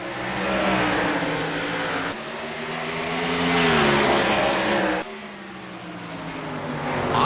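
Race cars roar off the green flag at the start of a dirt-track heat race in the WRLA Cup Series, several engines loud and close, revving up and surging together in a continuous, swelling drone.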